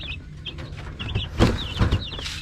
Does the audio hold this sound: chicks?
yes